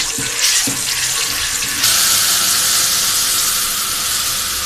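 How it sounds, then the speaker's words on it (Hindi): Hot water poured over fried garlic-ginger paste for an egg kofta curry, a steady close hiss and rush of liquid that swells louder partway through and continues without talk. "लहसुन अदरक फ्राई करने के बाद इसके ऊपर हमने डाला है गर्म पानी"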